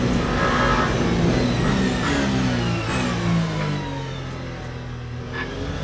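A Mustang GT3 race car engine in Le Mans Ultimate roars loudly as it passes at speed, its revving pitch sliding downward as it pulls away, with other engines droning underneath.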